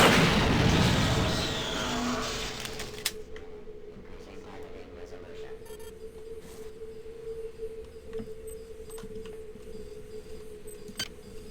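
Gunfire from a .45 caliber pistol in the game System Shock 2: a loud, dense burst of shots, then a few scattered sharp cracks over a steady low hum.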